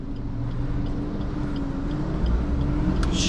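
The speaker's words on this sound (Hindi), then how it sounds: "एक और ट्रक आ गया।" Another truck passes close by on a tight market road as a car edges through, its engine a continuous loud rumble rising slightly near the end, without talk.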